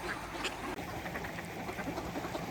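Ducks quack faintly now and then against a soft, snowy outdoor background with swans nearby, the calls scattered and somewhat distant.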